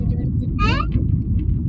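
A double-decker bus on a hot Mumbai street gives a steady low engine and traffic rumble, with a brief higher tone cutting through near the middle.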